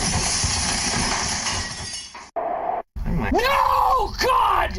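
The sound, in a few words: car crash sound effect with glass breaking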